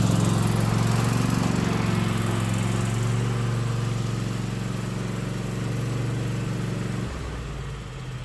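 An ATV engine running in a garage bay as it is moved out of the way, a loud steady idling drone that fades slightly, then drops abruptly to a lower, quieter rumble near the end.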